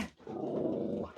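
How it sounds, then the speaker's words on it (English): A dog in an enclosed room with shelving growls and barks at the blinking light on a phone, a sustained close rumbling growl lasting about a second, loud and alone with no talk. "She's barking at the blinking light on the phone"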